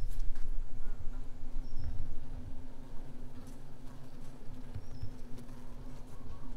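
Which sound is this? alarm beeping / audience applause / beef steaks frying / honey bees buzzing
honey bees buzzing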